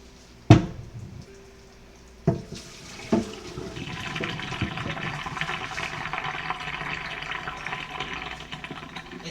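Water is poured out of a full container during cooking, a few sharp knocks and clunks giving way to a steady rushing splash that runs on to the end, moderately loud and close.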